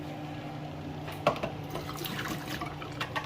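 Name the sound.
half a cup of water being poured out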